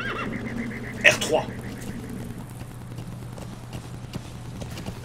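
A horse in the video game Metal Gear Solid V: The Phantom Pain gives one short whinny, followed by faint hoof clops, all under steady talking by a player.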